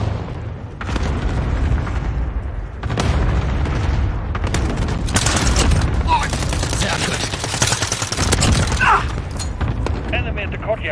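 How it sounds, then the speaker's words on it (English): Cluster strike in the Modern Warfare video game: a rapid barrage of booming blasts and crackling gunfire, loud and dense, rolling on for several seconds over continuous battle noise, with a voice speaking in places. "Enemy friendly cluster strike inbound."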